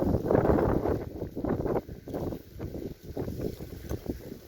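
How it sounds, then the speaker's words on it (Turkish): Strong autumn gusts of wind buffet the microphone in irregular rushes and lulls, loud and close, with no voices, in the Anatolian mountains. "Rüzgarlar da bayağı esmeye başladı."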